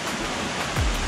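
A waterfall and river in the Ecuadorian rainforest jungle make a dense, steady rushing roar, loud and unbroken for a brief moment with no voices.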